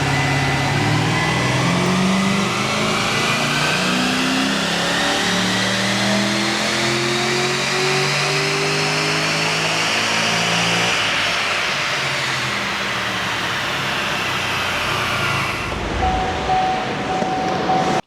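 An LS3 V8 with a camshaft upgrade and CNC heads revs hard on a dyno, a loud climbing engine howl holding for about fifteen seconds before cutting sharply to a lower idle.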